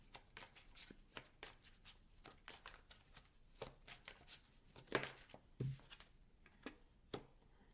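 Tarot cards are shuffled by hand in a quiet room, with repeated soft riffling flicks and papery slaps in an irregular rhythm, close and fairly faint.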